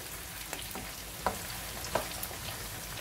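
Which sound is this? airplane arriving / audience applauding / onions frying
onions frying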